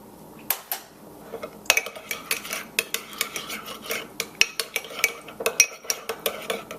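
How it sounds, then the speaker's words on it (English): A metal utensil mixing brown mustard in a bowl, making a rapid series of sharp clinks and scrapes against the bowl, close and fairly loud, with no talking. "probably about a half a teaspoon of brown mustard, and I'm going to mix that together."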